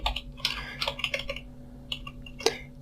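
Code being typed on a computer keyboard in quick irregular bursts of close, crisp key clicks, separated by a short pause and ending in a sharper final keystroke, no talking.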